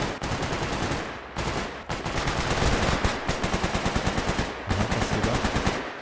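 Automatic gunfire in S.T.A.L.K.E.R. GAMMA crackles in long rapid bursts, broken by a few short pauses, fairly loud and without talk.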